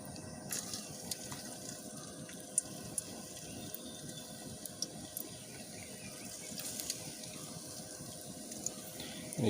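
Wheat flour snack dough frying in hot oil, a steady close bubbling sizzle that holds at an even level throughout, with a few faint clinks above it.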